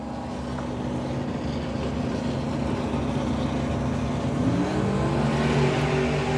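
Two drag racing cars, a Mustang and a Passat, launch together at a drag strip, a loud sustained engine roar that rises in pitch as they accelerate away, with steady broadband crowd and track noise behind.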